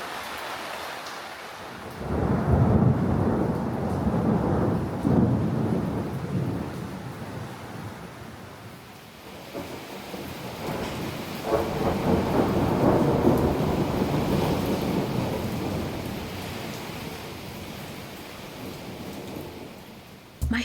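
A thunderstorm over an open riad courtyard in Marrakesh: steady heavy rain hisses throughout while deep rolling thunder swells and fades in long waves.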